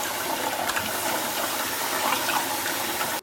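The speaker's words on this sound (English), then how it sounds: "I washed with the cold water and we're going to drain it." Cold rinse water drains off washed, skinless chicken drumsticks in a steady, rushing, hissing stream that cuts off abruptly at the end.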